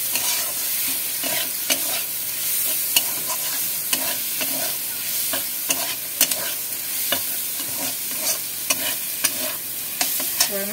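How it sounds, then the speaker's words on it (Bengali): Homemade paneer curry fries in a pan while a spoon stirs steadily, giving a continuous loud sizzle broken by regular clicks and scrapes of the utensil against the metal, with no voices. "ভালো করে একটু নেড়ে ছেড়ে দিচ্ছি।"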